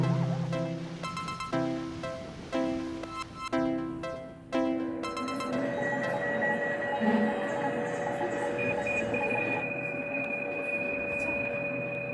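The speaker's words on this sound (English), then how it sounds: "What you're hearing here is basically one layer which represents the Venice Lagoon." Hydrophone field recording from the Venice Lagoon, starting with rhythmic pulsing tones and then settling into a dense, steady wash of underwater noise with faint sustained tonal hums, continuous throughout.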